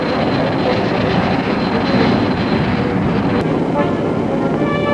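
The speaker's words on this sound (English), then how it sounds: "The plane roars off the ground on her maiden flight." An Avro CF-105 Arrow jet interceptor roars off the ground on its maiden flight, a loud, continuous broadband engine roar that holds steady throughout.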